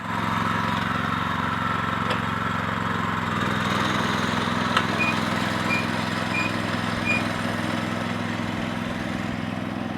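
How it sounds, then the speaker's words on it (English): A small lawn mower engine runs steadily close by, a constant buzzing drone that shifts pitch slightly partway through. "We're going to get the little lawnmower in here and disc this under"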